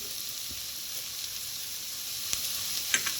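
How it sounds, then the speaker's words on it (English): Ginger and garlic sauté in a hot pan, added after onions for sundal masala, giving a steady close sizzling hiss with a few faint stirring clicks near the end. "After 2 minutes of sauteing, I'm going to add in the ginger, the garlic,"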